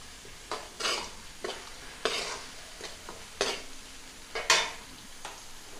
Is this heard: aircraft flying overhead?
no